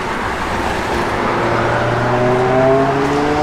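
A 1936 Plymouth Humpback sedan fitted with a 350 Chevy V8, Edelbrock intake, four-barrel and headers, runs loud and close with a deep rumbling drone whose pitch climbs steadily as the engine revs up.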